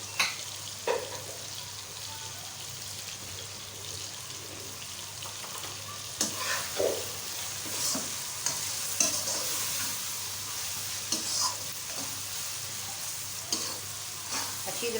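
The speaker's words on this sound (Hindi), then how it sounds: "अच्छी तरह से भुनाई करें।" Tomatoes and onions fry with coriander powder, red chili flakes and cumin in a pan for an aloo anday tikki. A steady sizzle runs throughout, with a spoon repeatedly scraping and stirring, and no talking.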